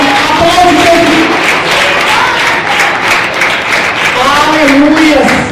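A church congregation applauds during a Portuguese-language communion service, steady dense clapping and crowd noise sustained throughout with voices mixed in.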